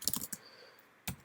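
Keys clatter on a computer keyboard as a short command is typed: a quick burst of close, crisp clicks, a pause, then a couple more presses, with nothing else heard.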